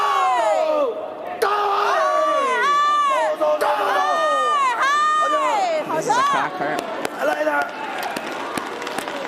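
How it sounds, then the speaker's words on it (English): A home crowd cheers and shouts loudly after a smooth throw in a wheelchair curling match between Korea and China at the Beijing 2022 Paralympics, sustained roaring under excited commentary. "The local crowd really appreciating that one."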